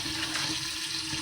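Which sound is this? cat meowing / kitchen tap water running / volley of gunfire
kitchen tap water running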